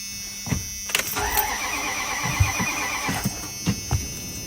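Subaru Forester engine cranking sluggishly on a weak battery, a strained, uneven whirring that labors for several seconds without catching, close by and with no voices.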